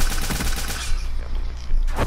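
Gunshots in a shooter video game: a rapid, loud volley of rounds fires in close succession, then a short pause and one last sharp shot at the end.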